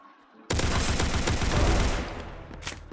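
Sustained automatic gunfire from a Rush Point deathmatch shooter game, a dense burst of rapid shots starting abruptly after a quiet moment and rattling loudly for over two seconds before tapering off.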